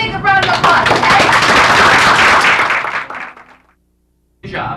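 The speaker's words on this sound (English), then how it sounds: "Let's welcome him with a big round of applause, okay?" A live audience bursts into loud, dense applause welcoming a juggler at a library show, sustained for about three seconds before fading to silence, then a voice resumes speaking.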